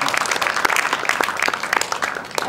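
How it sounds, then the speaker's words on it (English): Audience applause at a money conference: a steady patter of many hands clapping together, fairly close and moderately loud, with no talking over it. "And please clap. That one is worth clapping."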